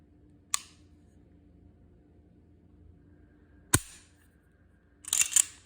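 Three sharp mechanical clicks from the trigger of a Beretta Px4 Storm pistol during trigger reset, spaced a few seconds apart against near-silence, with the last a quick double-clack.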